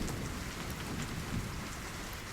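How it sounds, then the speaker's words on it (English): Heavy rain pours steadily during a thunderstorm in heavy flooding, with a dense broadband hiss and low rumbling thunder rolling underneath, continuous and fairly near. "Before it started raining, you could just see the lightning crack above our heads"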